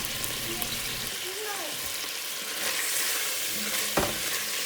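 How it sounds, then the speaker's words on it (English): Chopped vegetables for beef noodle soup sauté in a hot pot, making a loud, steady sizzle with stirring scrapes and a clank near the end, heard close up and without talking. "Dump it all in for a saute bath."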